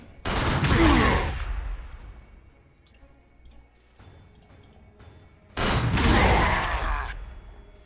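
Gunfire from the Warhammer 40k Sanctus Reach video game: two loud, dense bursts of rapid shots, one near the start and another later, separated by a quieter stretch of low rumble and faint clicks.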